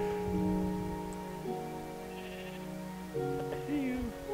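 Sheep in the Minecraft video game bleat a few times, short game-style baas, heard over a steady background music drone with a couple of soft effects, no talk over them.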